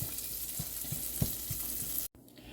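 Seasoned chicken browning in oil in a pan for Hainanese chicken rice, a steady close sizzle with soft periodic ticks and pops, cut off by a brief drop out near the end.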